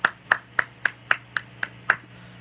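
Hand clapping at a Rock-afire Explosion animatronic show: eight sharp, evenly spaced claps at a slow, steady beat, close and distinct against a quiet background with a low hum.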